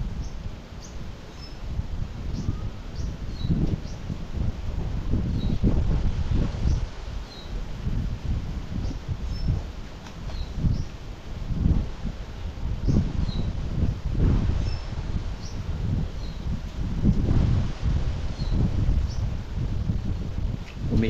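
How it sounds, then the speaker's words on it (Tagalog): Wind gusting through leaves and trees outdoors in the Philippines, a continuous rustling wash that swells and fades in uneven surges, with faint scattered chirps above and no talk. "Umihip naman yung hangin."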